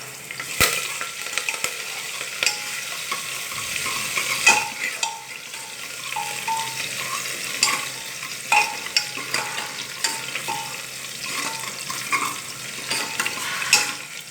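Curry leaves are added to hot oil for masale bhat, frying with a steady crackling sizzle, sharp pops and occasional stirring scrapes in the pan, moderately close.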